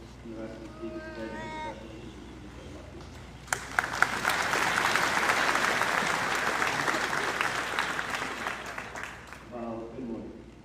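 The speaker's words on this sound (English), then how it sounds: "I'd like to thank you for round of applause for Mr. Lynch" A high school graduation audience breaks into loud, sustained applause after a few seconds of talk, the clapping swelling across the crowd before fading as a voice returns.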